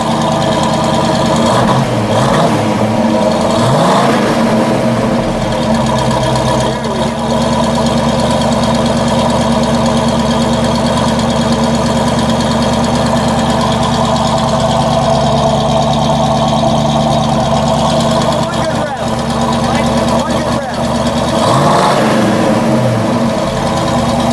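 A blue 1971 Ford Boss Mustang with the 351 engine and four-speed idles loud and close, a continuous throaty rumble with slight knock and a few brief revs swelling near the start and end.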